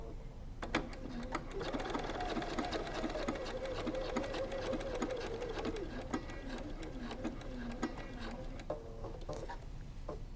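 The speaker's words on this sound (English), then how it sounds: "with our triple straight stitch, we'll start at the first mark." A sewing machine running a triple straight stitch on cork fabric hums steadily at close range with a fast, even needle rhythm throughout, a faint voice murmuring underneath.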